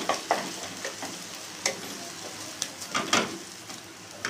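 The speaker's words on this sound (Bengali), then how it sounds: "দেখুন ডিমটা আমি হালকা হালকা ভেজে নিচ্ছি" Eggs fry lightly in a pan over a raised gas flame for egg tadka, a close, steady sizzle punctuated by repeated sharp spatula clicks and scrapes at an irregular pace, with no voices.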